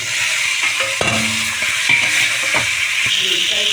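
Pointed gourd and boiled potato stir-frying in a pan, a steady close sizzle broken by scraping spatula strokes and light clinks against the metal.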